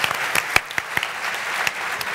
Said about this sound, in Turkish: Alkış hak etti değil mi?